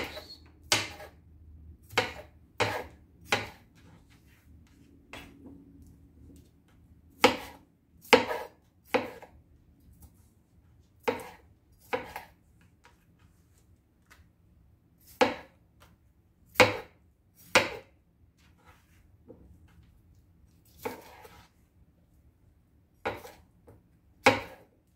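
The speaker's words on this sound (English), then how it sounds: "rough chop all the peppers" Knife chopping bell peppers roughly on a board for sofrito: about twenty sharp, close, distinct knocks in irregular bursts of two to four, with quiet gaps between.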